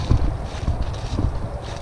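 Wind gusting over a muddy pond during a bass fishing outing, buffeting the microphone in uneven low rumbles and swells throughout, with no talking.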